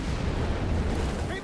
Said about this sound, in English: Again, got the cannon shot, mines exploding here.